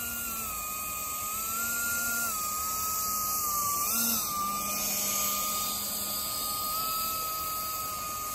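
A Palaform X500 hovercraft engine runs steadily and loudly alone, a sustained whining drone with a slight rise in pitch around the middle.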